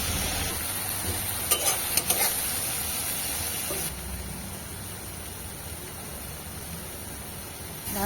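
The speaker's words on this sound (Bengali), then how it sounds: "এবার টমেটো লঙ্কাটা দিয়ে দিলাম।" Tomato and chili paste sizzles in a pan over onions that have already been fried, with a few sharp scraping stirs early on and a steady frying hiss that settles a little quieter.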